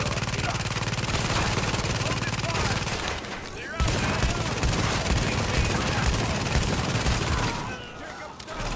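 Rapid sustained bursts of automatic gunfire, loud and dense, with a short pause midway, from a game; a voice talks underneath.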